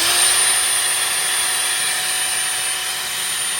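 A Snap-On belt grinder running continuously and loudly, a steady high-pitched whine and hiss as it smooths sharp cut metal edges, with no talking.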